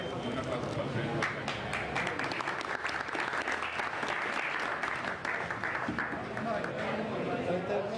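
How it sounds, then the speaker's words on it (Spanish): An audience claps in sustained, dense applause that stays loud and even for several seconds, with a voice speaking over it. "un aplauso para ustedes"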